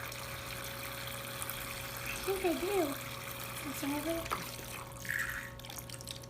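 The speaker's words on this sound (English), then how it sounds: "Will you run water?" Water runs from a small color-changing toy kitchen sink in a soft, steady trickle, mostly buried under the close voices of people playing.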